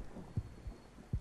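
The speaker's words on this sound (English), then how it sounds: "Why is the heartbeat getting louder?" Heartbeat sound effect in the horror video game Kraven Manor: low, muffled double thumps repeating at a steady pace under a faint ambient hum.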